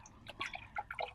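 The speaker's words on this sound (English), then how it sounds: "I'm going to wash my brush for this, which I don't do very often." A paintbrush being rinsed in a water container during acrylic painting gives soft, quiet dripping and sloshing for about a second, close by.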